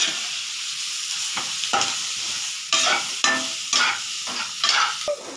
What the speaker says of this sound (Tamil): 2 கட் பண்ணி வச்சு 2 டொமேட்டோ போட்டு நல்லா வறுத்துடலாம்